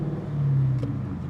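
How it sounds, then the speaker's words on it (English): A BMW car drives past on an Australian road near Brisbane, a steady mid-low engine rumble swelling briefly as it goes by, heard from inside another moving car. "Oh, yeah, no, there's a car coming. BMW."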